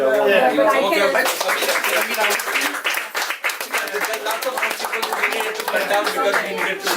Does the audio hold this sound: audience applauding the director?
yes